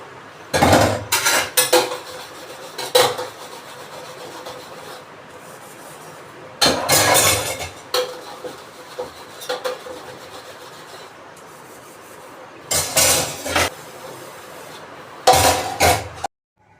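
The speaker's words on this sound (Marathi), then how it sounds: "तर आता इथे ना अगोदर भांडे वगैरे घासून घेते" Utensils and dishes scrubbed in a home kitchen, bursts of loud rasping, rubbing and metal clatter alternating with quieter stretches of faint handling, close to the listener and without any voices.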